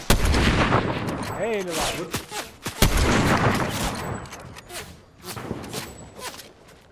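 Fortnite gunfire cracks repeatedly in fast, loud bursts with uneven spacing, mixed with game effects, while people talk over it.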